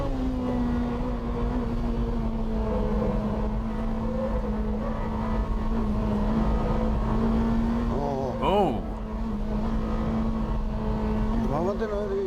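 A BMW M3 drives through a banked corner, its engine holding a steady drone that sweeps up sharply twice near the end as it revs, heard from inside over road roar.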